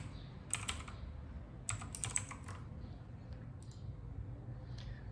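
A computer keyboard tapped in a few short bursts as a deck name is typed, keystrokes crisp and close over a low steady hum, with quiet gaps between the clusters.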